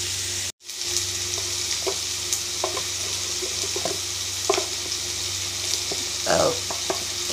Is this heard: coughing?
no